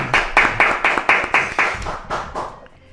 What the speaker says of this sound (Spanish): recibirla con un fortísimo aplauso